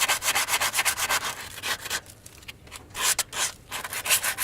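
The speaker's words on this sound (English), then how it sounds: "So we're just going to get it all sanded up. Sand all the way down." A vehicle undercarriage is hand-sanded to strip rust before repainting, giving a steady back-and-forth rasp of rhythmic rubbing strokes, close and fairly loud, with a short pause midway and no talk.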